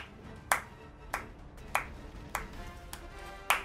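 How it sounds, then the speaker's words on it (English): Six sharp hand claps ring out at a slow, slightly uneven pace, each crisp and bright, with quiet gaps between them and no voices. "That's right, I'm clapping"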